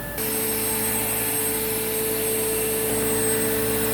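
A Rainbow E2 Black vacuum cleaner starts up and then runs with its nozzle attached, giving a loud, steady whine with a sustained high tone over a broad airflow roar, all at close range.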